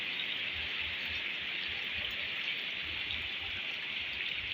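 Steady heavy rain falling during a flood in southern Laos, a dense continuous hiss of drops on surfaces, constant and fairly close with no voices.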